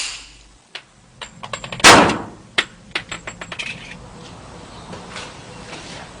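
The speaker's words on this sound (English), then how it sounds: "The impact of a standard 45 full metal jacket bullet gives us a basic to compare other bullet impacts" A single sharp report from a 1911 pistol firing a 45 ACP full metal jacket round into a gelatin block, followed by a scatter of close mechanical clicks and clanks that fade away.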